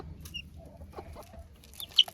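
A turkey hen with her chicks makes soft clucking sounds, with a few short, faint calls over low background noise and a brief sharper peep near the end.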